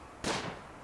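A single sharp gunshot crack from the video game Rimworld, brief and fairly quiet, with a short fading tail over low background hiss.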